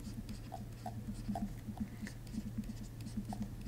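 Black ballpoint pen scratching across paper in a lab notebook, quick close strokes and taps in an irregular rhythm, soft and intimate, with a faint steady hum underneath.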